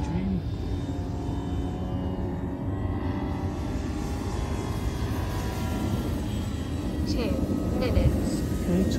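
An FMS P-47 Razorback 1500mm RC model airplane drones steadily in flight, with a continuous electric motor hum under outdoor wind noise and someone talking throughout.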